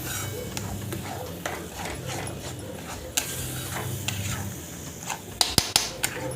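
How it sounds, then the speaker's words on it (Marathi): Mango pulp is stirred and sautéed in ghee, a soft bubbling sizzle under repeated scraping and clinking of a spoon against the pan, with a cluster of sharper knocks toward the end. "आता हे पूर्ण घट्ट होईपर्यंत आपल्याला हे अगदी परतून घ्यायचं आहे मीडियम फ्लेमवर आणि लो फ्लेमवर"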